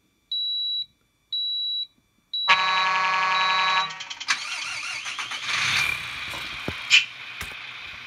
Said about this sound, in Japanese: エンジンの音とかで